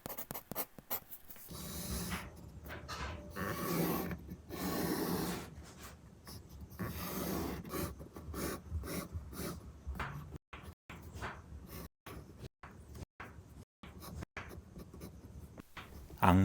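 Pencil or pen scratching on paper while drawing, faint and close, with steady rubbing strokes broken by brief pauses and short pen lifts.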